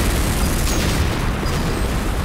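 A structure called an obelisk blows up in a video game, a loud, dense, sustained roar of explosion noise filling the whole moment without a break.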